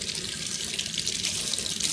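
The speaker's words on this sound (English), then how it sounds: "We'll go ahead and start filling up the cooler." Hot water pours steadily from a tap into a cooler being filled to soak bottles. The gushing splash is continuous and fairly loud, alone with no talking.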